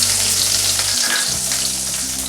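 Half an onion sizzling steadily in hot oil in a pan alongside popped mustard seeds, cooking until light brown for a banana stem stir fry; a continuous, fairly loud frying hiss with faint stirring and no talk.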